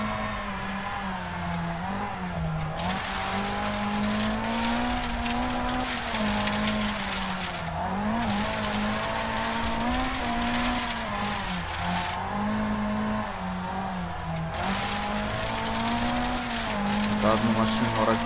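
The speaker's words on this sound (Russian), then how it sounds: "Это одну машину развернуло." A Lancia Fulvia in the Rally Cars 70 class races in the Sebastien Loeb Rally video game and spins out, its engine droning loud and steady throughout with shifting pitch and faint tire skids mixed in.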